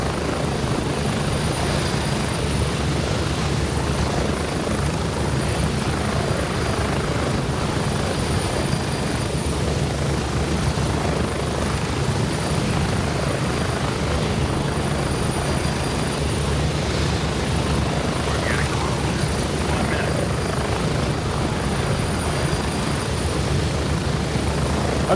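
Helicopter rotor in the video game Gray Zone Warfare, a loud continuous whirring thrum with a low rhythmic chop and engine whine, steady and close for the whole stretch with no talking.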